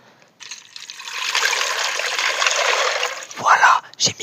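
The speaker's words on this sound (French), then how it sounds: "Voilà, j'ai mis l'eau dans les pâtes." Water poured into a pan of pasta during home cooking, a steady broadband trickle and pour lasting about three seconds, close and moderately loud, ending with a few small clinks.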